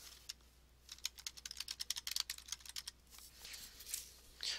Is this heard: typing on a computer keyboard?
yes